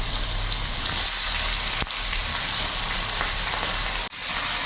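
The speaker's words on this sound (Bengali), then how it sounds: "তেলও গরম হয়ে গেছে, এবার মাছগুলো দিয়ে দেবো" Small rohu fish fry in hot oil with a loud, unbroken hiss that drops out briefly twice. There is no talking.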